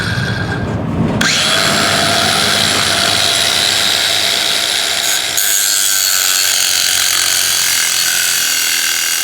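A 4.5-inch cutoff wheel rated for steel and stainless steel, spinning at up to 7,000 RPM, grinds through a steel trailer coupler lock, a loud continuous high-pitched screech close up that shifts in tone partway through.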